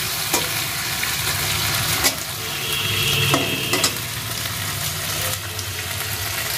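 Spices frying in a pan while being stirred, a steady loud sizzle with occasional scraping stirs, ahead of adding vegetables to a home-cooked dish.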